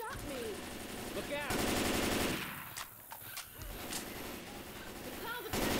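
Rapid video-game gunfire from an Armello match, loud and sustained in dense bursts, with voices talking over the shooting throughout.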